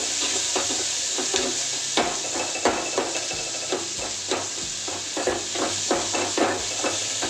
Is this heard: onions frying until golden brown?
yes